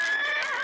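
A horse neighs in one drawn-out, wavering whinny, close and fairly loud, with no talk over it.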